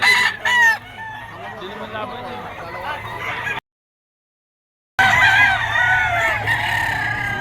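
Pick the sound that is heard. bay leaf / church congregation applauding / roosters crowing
roosters crowing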